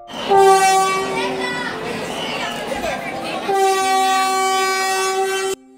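A Vande Bharat Express train at a station, its horn sounding in long sustained blasts over crowd noise with children and adults talking, loud and close.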